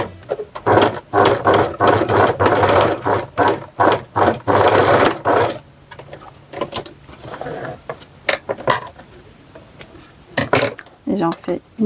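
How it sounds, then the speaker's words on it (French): Sewing machine stitching bias binding onto a child's apron, running in loud bursts of rapid mechanical whirring separated by brief pauses, with a second short burst of stitching near the end. "Et je reprends ma couture du biais pour tenir ma patte"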